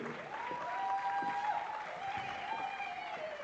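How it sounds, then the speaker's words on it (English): Conference audience at an African leadership convening applauds as a speaker comes on stage, fairly quiet crowd clapping with high ululating cries riding over it. "Let's give her a big round of applause as she comes through."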